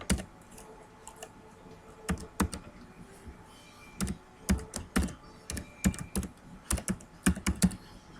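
Close computer keyboard keystrokes tapping out an email address, sharp individual clicks in irregular clusters with short gaps, over a faint quiet room background.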